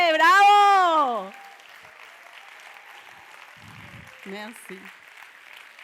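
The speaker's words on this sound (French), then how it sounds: "Ah, levez-vous et applaudissez." Audience applause at a live stage show, heard as a soft, steady patter that follows a loud voice at the start and continues under brief talk.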